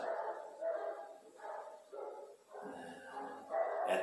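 Dogs barking in the background of a guitar lesson on power chords, a repeated series of muffled, moderately distant barks and yips in bursts, with no talk over them.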